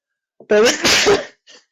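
A single sharp sneeze with a voiced intake before it, followed by a faint short sound afterward; close and clear.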